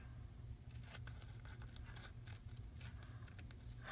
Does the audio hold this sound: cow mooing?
no